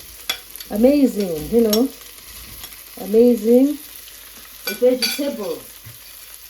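Fresh green okra fries in a pan with a steady, fairly loud sizzle running beneath a person talking in short bursts, with light scraping as it is turned.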